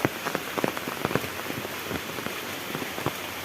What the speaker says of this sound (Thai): ดูนะครับฝนฝนฝน